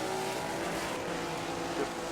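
Race cars in a racing video game at Mount Panorama, engines droning steadily at speed throughout, a continuous loud whine with no speech.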